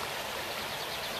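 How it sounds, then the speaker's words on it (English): River water flowing steadily along a pleasant stretch of countryside riverbank, a soft continuous rushing wash with no breaks and no voices over it. "very nice stretch of river"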